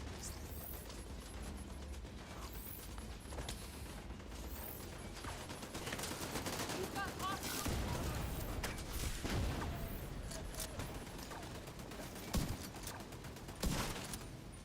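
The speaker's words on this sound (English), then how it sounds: "Turrets everywhere." Automated turrets fire during a firefight in the shooter video game The Division 2, producing dense mechanical bursts of gunfire with clanking, ratcheting machinery over a constant loud background, with a couple of sharper shots near the end.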